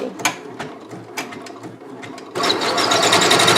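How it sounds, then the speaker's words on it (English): A Janome MB4 embroidery machine trims its thread with a few quick mechanical clicks and whirs, then switches to a loud, steady mechanical whirr as it moves on to the next needle. No one talks. "It's cutting the thread, getting it out of the way, and getting ready for needle number 3."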